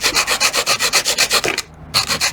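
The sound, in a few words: sanding the top of a wooden piece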